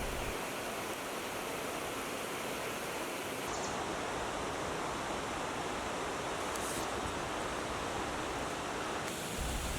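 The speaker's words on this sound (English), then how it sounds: "This is the Wakeena Falls." Wakeena Falls in the Columbia River Gorge pours as a steady, hissing roar of falling water heard up close. The broad, even rush continues without a break.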